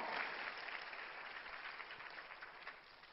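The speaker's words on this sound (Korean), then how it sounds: "박수 한번 칩시다" An audience at a church gathering applauding, a dense wash of clapping hands that stays steady and slightly distant, then fades a little toward the end.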